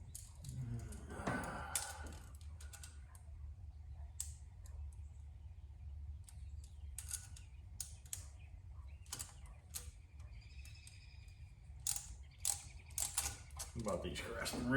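Ratcheting wrench turned in short strokes, crisp metallic clicks in uneven bursts close by, alternating with quiet gaps and light handling noise.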